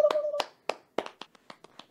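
Sparse hand claps, a handful of separate sharp claps spaced unevenly, sound faint and close after a brief spoken word, as from a single person or a very small group rather than a crowd.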